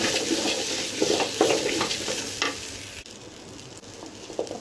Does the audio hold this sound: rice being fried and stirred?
yes